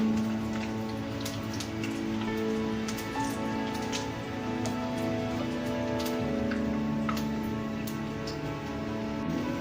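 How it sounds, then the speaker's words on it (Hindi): Bread pakora deep-frying in hot oil gives a steady, close sizzle with scattered pops and crackles, continuous and fairly loud with no talk. "देखिए फ्राई हो रहा है हमारा पकौड़ा"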